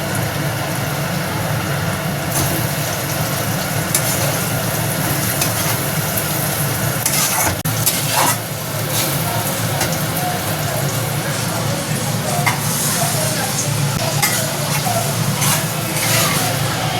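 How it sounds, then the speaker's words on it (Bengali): Spices and boiled lentils for tarka dal stir-frying in a pan give a steady, dense sizzle throughout, with occasional scraping stir strokes mixed in. "আবারও ভালো করে নাড়তে হবে যতক্ষণ না মশলা থেকে তেল ছাড়তে শুরু করে।"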